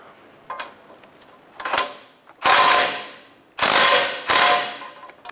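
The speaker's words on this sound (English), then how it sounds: "Snug down the outer tie rod nut." A ratchet wrench clicks in several separate strokes while snugging the outer tie rod nut on a 2012-2016 Subaru Impreza during a front steering knuckle replacement, each stroke a loud, fast run of pawl clicks.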